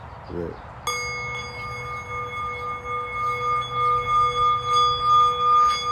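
A meditation bell is struck once and keeps ringing with a bright, shimmering tone that swells and pulses slowly, preceded by a brief faint voice.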